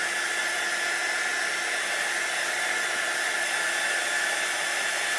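A heat tool blows steadily to dry a chalk craft project, a constant loud hissing whoosh that runs unbroken from start to finish with no talk.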